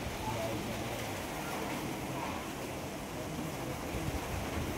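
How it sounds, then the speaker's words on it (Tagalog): Strong typhoon wind roars continuously, a dense rushing noise that swells and buffets without pause, close and loud. "Ayan na naman yung hangin."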